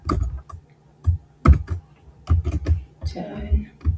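Keys clatter on a computer keyboard as an email address is entered into an online form, irregular bursts of close clicks with pauses between, some low murmuring talk mixed in.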